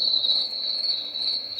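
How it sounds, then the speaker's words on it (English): Steady cricket chirping played by a white noise sound machine, a continuous high trilling drone that stays even and fairly close throughout with no talking. "The crickets."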